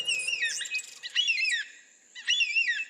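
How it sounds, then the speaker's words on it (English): Several bright calls from rare Australian bird species, high whistling chirps and warbling squawks in short bursts with brief pauses between, clear and close. "Recordings made entirely from the tweets and squawks and songs of 53 of the rarest bird species in Australia"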